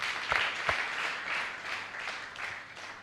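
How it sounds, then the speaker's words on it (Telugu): A church congregation claps together during a live Sunday service in Shatrajpally, Telangana, producing a soft, diffuse wash of applause with a couple of sharper claps near the start. "చప్పట్లు కొడదాం."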